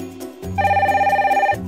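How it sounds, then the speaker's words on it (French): A red telephone rings loudly and close by in a single steady burst of electronic trilling that lasts about a second, in a playful toy-figure reality show setting. "pourquoi il sonne le téléphone rouge?"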